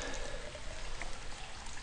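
A steady pour of water runs continuously at low volume, a smooth unbroken stream with no voices.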